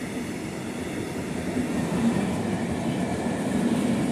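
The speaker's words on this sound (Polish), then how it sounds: "Jest to przejazd kolejowy w lesie." A long train passing a railway crossing in a forest, a loud steady rumble and roar of wheels on rails lasting throughout, close by.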